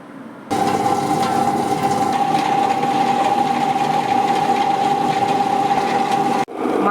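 An electric grinder churns soaked ration rice into appam batter, starting abruptly and running as a loud, steady whirring drone with a sustained motor whine before cutting off near the end.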